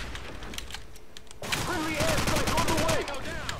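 Gunfire in the video game Call of Duty 4, a burst of rapid shots cutting in partway through over continuous game sound, with whistling effects layered on top.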